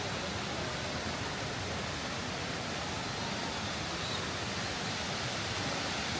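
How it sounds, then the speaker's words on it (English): A waterfall in Ireland gives off a steady, dense roar of falling water that stays even and unbroken throughout, with no voices heard. "so we can actually see a waterfall already"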